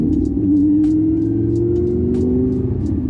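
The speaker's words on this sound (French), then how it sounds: "le joli bruit du V10 qui va bien" A Lamborghini Gallardo LP 550-2 Valentino Balboni with a rear-wheel-drive V10 engine drones steadily and loudly while cruising, its tone rising slightly as it pulls, with no talking.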